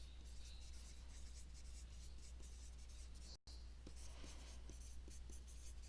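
Pen or marker scratching steadily across paper or a board while linear equations are worked out, a continuous soft scraping with small strokes, quiet and close, broken by one brief dropout.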